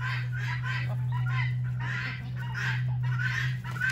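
Several chickens cluck in short repeated bursts close by while eating tomatoes, over a steady low hum.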